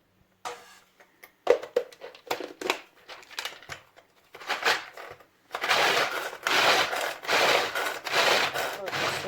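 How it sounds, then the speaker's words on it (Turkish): Food processor finely chopping walnuts for a Turkish saray sarma dessert: scattered light clatters at first, then several loud, sustained grinding bursts in quick pulses through the second half. "Şimdi e, cevizlerimi robottan çekeceğim. Şu şekilde ince ince kıyılmış hale gelinceye kadar."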